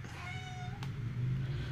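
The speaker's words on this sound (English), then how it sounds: "That's my cat." A single drawn-out meow from a nearby cat, rising then trailing off, over a low steady background hum.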